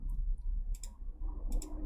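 Two brief bursts of computer keyboard delete-key clicking, close and fairly crisp, spaced under a second apart over a low steady hum.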